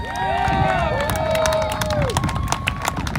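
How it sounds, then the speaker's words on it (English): A crowd at a live event in Olympia breaks into loud applause with cheering and a drawn-out whooping voice, the clapping staying dense and steady throughout. "one more round of applause for Dr. Churchill, please."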